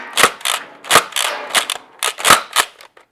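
X-Shot Insanity Berzerko toy blaster slam-firing, a rapid string of sharp loud cracks, roughly eight shots in uneven pairs and singles with mechanical clatter between them.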